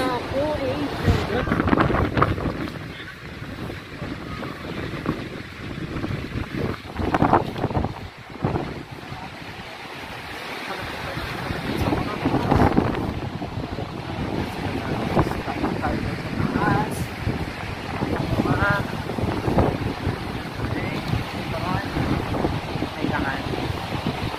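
Waterfalls at Plitvice, Croatia pour with a steady, loud rushing roar that holds throughout, mixed with gusty wind buffeting the microphone and voices of people talking over the constant water noise.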